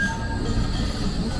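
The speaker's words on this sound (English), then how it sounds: "we've got a tram coming up here" Tram passing on the Blackpool tram line, a steady close rumble with faint rail squeal, continuous and fairly loud throughout, no talk.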